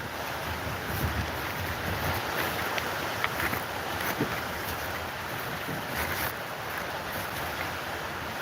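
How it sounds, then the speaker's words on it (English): Strong wind of about 35 mph outdoors roars steadily into the microphone, a dense, loud buffeting rush with no pauses. "It's like 35 fucking mile an hour wind out here."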